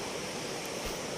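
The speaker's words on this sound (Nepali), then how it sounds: "यो चाहिँ मेची खोला अरे।" Water from the Mechi river flows in a brief, unbroken hiss and rush, fairly close and even in level, with no voices over it.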